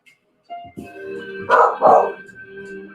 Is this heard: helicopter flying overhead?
no